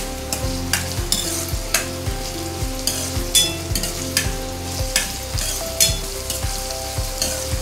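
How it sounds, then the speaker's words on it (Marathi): Chopped onion fries in a pan for pav bhaji, with a steady close sizzle under regular scraping strokes of a spoon stirring it roughly every half second. "त्याला काही कांदा भाजेपर्यंत 3 ते 4 मिनिटं तरी लागतील।"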